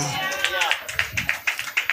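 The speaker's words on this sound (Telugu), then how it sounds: "చప్పట్లు కొడదామా" A church congregation at a Baptist prayer meeting breaks into clapping: a brief voice opens, then quick, rhythmic claps follow close and fairly loud, repeating in an uneven beat to the end.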